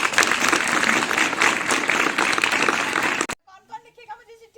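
A school crowd claps loudly for a visitor, sustained dense applause that cuts off abruptly, then a short bit of speech follows.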